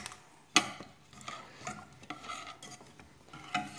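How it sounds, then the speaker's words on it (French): Chocolate cream mixture for a liégeois dessert being stirred in a saucepan, a spoon scraping and clinking against the pan in light irregular strokes, fairly close and quiet with no talking. "continuer à remuer jusqu'à ce que le chocolat fonde et que donc la crème ou le mélange s'épaississe"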